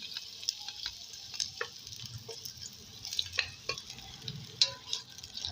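Onions sizzle softly in a cup of hot oil while a spoon stirs them, with faint scraping and crackling spread through the pan and a few sharper clinks standing out.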